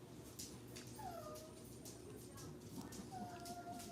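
Dogs whimper and whine in thin rising and falling cries, fairly faint, over steady background noise indoors during a gel nail art session.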